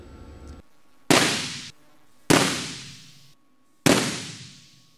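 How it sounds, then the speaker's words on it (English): A high-voltage lightning generator's spark gaps fire all at once in three separate, very loud cracking bangs about a second apart, each trailing off in a long reverberant decay in a large lab hall. "These spark gaps fire all at once and connect all of the capacitors instantaneously together"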